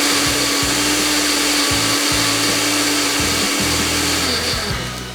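A kitchen grinder whirs loudly and steadily, its motor pulsing in repeated bursts as it starts and stops grinding, with no talk over it.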